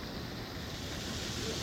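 A waterfall roars as a dense, steady rush, heard from inside a cave behind the falling water on a cold, windy day, with no voices present.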